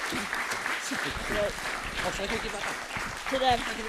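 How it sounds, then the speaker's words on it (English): Applause for the actors at a Learning Disability Wales conference, scattered hands clapping in a hall with voices and cheers rising through it, growing louder near the end. "could the actors just get another round of applause as well?"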